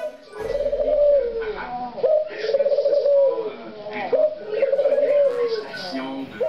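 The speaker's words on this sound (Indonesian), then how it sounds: "Si burung puter ini terus bernyanyi di samping telinga si kucing." Spotted dove cooing close by in repeated rhythmic phrases right beside a cat, each call a low soft hooting sequence, loud and clear with no talk over it.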